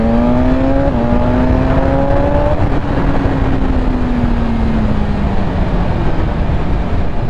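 A BMW S1000RR inline-four sport motorcycle pulls hard in second gear, its loud engine note climbing in pitch, easing briefly at a quick-shifter change, then droning on steadily against heavy wind rush.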